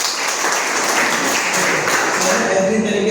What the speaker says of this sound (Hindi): सर के लिए जोरदार ताली दीजिए।